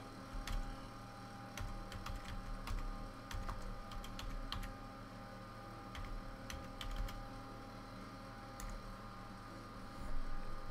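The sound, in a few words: typing on a computer keyboard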